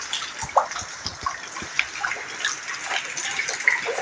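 Rain falls steadily at night as a continuous soft wash of water, with scattered drips and splashes, fairly faint and with no voices.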